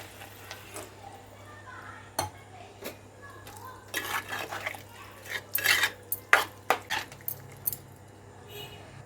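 Meal maker curry being stirred in a pot with dried coconut powder and coriander powder, irregular metallic scrapes and clinks of a spoon against the pan, close and sporadic, with faint background hum.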